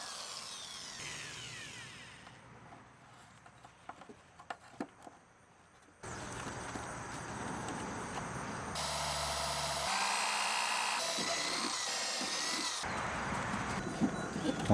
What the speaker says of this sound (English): we're going to drill a hole in the back of our toolbox